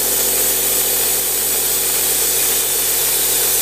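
An air compressor in a home workshop, used for motorcycle brake work, runs as a loud, steady broadband hiss and hum that holds unchanged for the whole stretch, with no voices.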